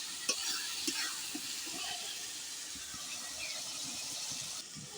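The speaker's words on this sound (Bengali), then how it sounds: "এবার আমরা রসুনটা দিয়ে দিচ্ছি রসুনটা ভেজে নিই" Garlic fries in oil for chicken dum biryani, with a soft, steady sizzle and scattered clinks and scrapes of a spoon stirring the pan, close but fairly quiet.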